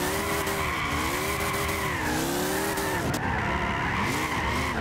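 Car drifting in Gran Turismo 6, with continuous tire squeal and skidding over a revving engine that rises and falls in pitch, loud and sustained throughout.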